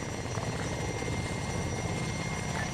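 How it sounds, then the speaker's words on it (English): A military helicopter in the Arma combat simulation game gives off a continuous rotor and engine drone that fills the whole stretch at steady loudness, with no voices over it. "I do see a helicopter up and locked on already"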